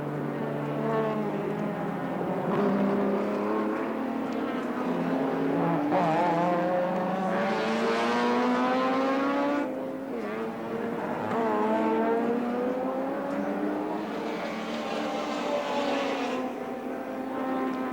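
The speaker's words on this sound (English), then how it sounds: "While we time Brock on this flying lap, I think we're going to see him grab third place." Race car engines on a flying lap at Sandown during the 1983 Castrol 400 touring car race, a loud sustained whine of rising and falling engine pitch as cars pass close, continuous through the whole stretch.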